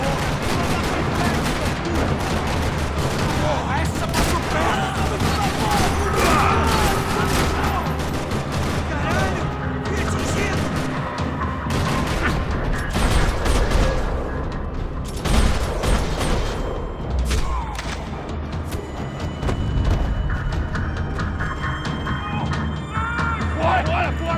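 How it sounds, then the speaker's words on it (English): Sustained gunfire fills a parking lot in the Max Payne 3 video game, with dense rapid bursts, single shots and crashing impacts, loud and continuous. Voices come through underneath. "Another parking lot rattling with gunfire."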